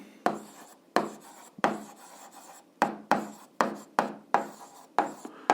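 Pen strokes on paper while an algebra expression is written out, a steady series of about a dozen short, crisp scratches at a brisk, uneven rhythm, close and clear with no talk.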